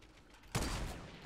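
A single sharp gunshot-like crack goes off in the Fortnite video game, loud and close after a quiet moment, and leaves a brief rough tail.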